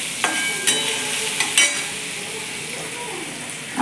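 Crushed peanuts fry in hot oil, giving a steady soft sizzle punctuated by a few sharp clinks of a utensil against the pan, close and alone without speech.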